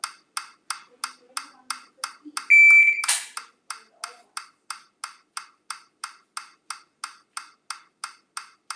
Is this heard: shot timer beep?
yes